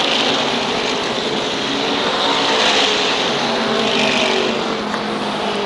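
SK modified race cars at Waterford Speedbowl roar past in a continuous loud engine drone that swells and fades as the pack circles the oval.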